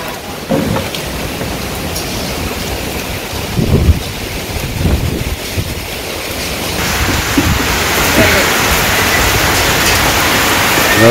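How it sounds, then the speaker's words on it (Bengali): Storm wind and heavy rain in a Bangladeshi village during the rainy season, a loud continuous roar with gusts buffeting the microphone, building steadily toward the end, with no voices. "বৃষ্টি যাওয়া শুরু হয়ে গেছে, ঝড়ের পরে ঝড় হয়েছে ভালোই মোটামুটি, তারপরে আবার বৃষ্টি শুরু হয়ে গেছে।"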